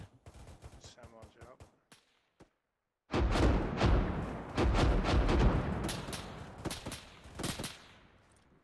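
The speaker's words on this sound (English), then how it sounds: "it sounds like there's an auto cannon coming into the southwest" Heavy auto cannon fire in the ArmA 3 military video game, loud rhythmic bursts of booming shots following a quieter stretch with voices, continuing in repeated volleys.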